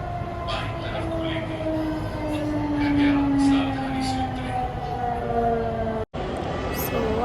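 A metro train rumbles through a metro station with a steady low drone and rising whine, like a metro car slowing or pulling away, with faint voices around.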